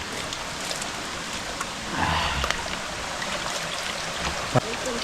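Clean mountain water runs and trickles steadily from a pipe, a continuous close splashing flow with a faint outdoor background.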